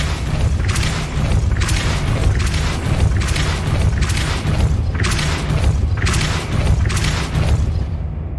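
Repeated Depulso force-push spell from Hogwarts Legacy, a series of booming thuds at a steady rhythm, about once a second, loud and close over a continuous low rumble, with no talking.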